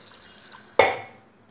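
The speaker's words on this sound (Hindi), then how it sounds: "इसमें डालूंगी मैं पानी" Water is poured into a pan of tomatoes while making Hyderabadi tamate ka kut. A single close splash rises sharply and then fades over about half a second, after a faint earlier clink.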